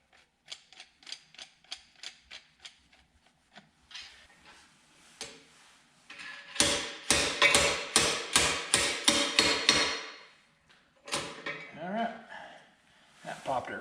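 Slide hammer knocking an old bearing out of an Onyx Classic rear hub on a mountain bike: a few light metallic taps, then a rapid run of about nine loud, close, sharp knocks, with some talk nearby.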